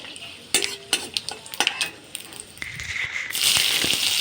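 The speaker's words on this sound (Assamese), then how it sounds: "পাঁচফোৰণকেইটা অলপ ভাজি লওঁ" Panch phoron spices frying in hot oil, with sharp crackles and scraping spatula strokes that swell into a dense, continuous sizzle near the end, close and without speech.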